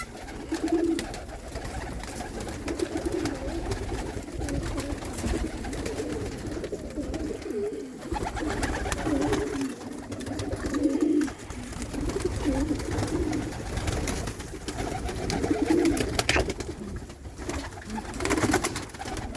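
Young squeaker pigeons in a homemade backyard coop coo softly, with repeated low murmuring calls and faint rustling, close by and steady.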